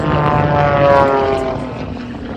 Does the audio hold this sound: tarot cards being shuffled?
no